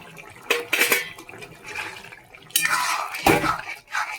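A vegetable curry being stirred in a cooking pot with roasted spice powder, giving several bursts of metal scraping and clanking against the pot, close and fairly loud, with quieter pauses between strokes.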